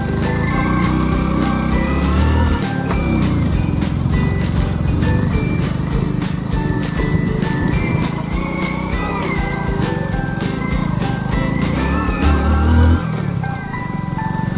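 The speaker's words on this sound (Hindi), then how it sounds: "ये पहले गियर में ही चढ़ रही है" A car climbs a steep, dangerous mountain road in first gear near Rajouri, its engine straining in a loud, steady drone with rattling and bumping from the rough surface throughout.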